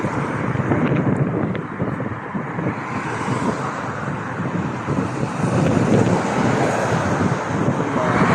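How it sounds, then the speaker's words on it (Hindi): Strong wind batters the microphone, producing a loud, constant rushing roar that swells and dips throughout. "हवा बहुत तेज चल रही है,"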